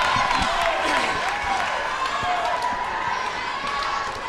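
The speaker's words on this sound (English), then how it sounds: "You can hear this crowd, they love it." A crowd in a basketball gym at a high school girls volleyball semifinal cheers and roars loudly throughout, with squeaks and thumps from the court beneath and a commentator talking over it.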